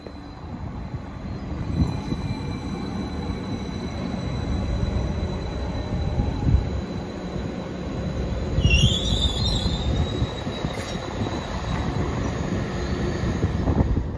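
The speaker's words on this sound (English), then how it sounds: "arriving now is the 1558 Transport for Wales service, terminating here at Cardiff Central from Cardiff Bay" A Transport for Wales train pulls into Cardiff Queen Street station, its wheels rumbling steadily on the rails with a sharp rising wheel squeal partway through, loud and close, with no talk.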